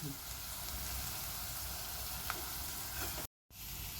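Chopped onion frying in a pan for chana dal zhunka gives a steady, even sizzle for about three seconds, then a sudden brief gap of silence before the sizzling resumes.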